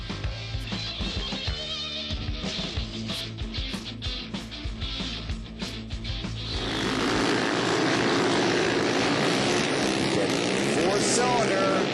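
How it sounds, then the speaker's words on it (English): Four-cylinder 600 Yamaha four-stroke racing quad with studded tires in an open quad final on an ice track, its engine droning and rising to a sustained high-pitched roar, with a commentator talking over it. "4-cylinder. That's why it sounds so different. That 4-cylinder Yamaha."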